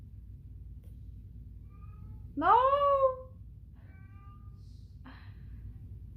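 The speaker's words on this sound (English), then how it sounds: "You're gonna hear my cat." A cat gives a loud, drawn-out meow up close, followed by a couple of fainter short mews, with a person briefly speaking and a low hum underneath.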